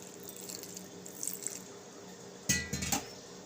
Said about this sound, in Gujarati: અને થોડુંક આપણે પાણી નાખશું 2 થી 3 ચમચી.